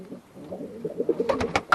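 Pigeons coo softly inside a bird loft, several overlapping murmuring calls, with a few sharper, louder bursts of sound near the end close by.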